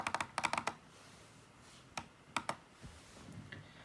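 Bursts of typing on an HP 15 laptop keyboard, with clusters of crisp key clicks separated by brief quiet gaps, close and fairly soft.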